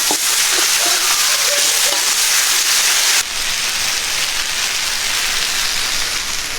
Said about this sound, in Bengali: এখন আমরা শাকটা সুন্দর করে ভেজে নেব।